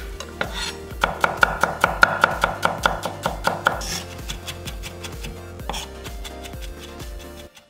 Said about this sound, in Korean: 통 많은 3개는 다져서